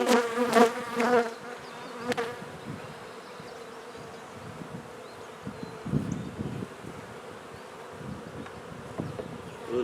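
Honey bees from a swarm buzz around a small eight-frame hive box outdoors, a faint, steady insect hum with soft rustling and a few louder passing buzzes near the start.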